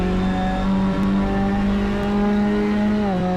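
Ginetta GT5 race car engine in a racing simulator, loud and steady with strong harmonic drone, holding revs then shifting pitch near the end as it pulls hard up a hill.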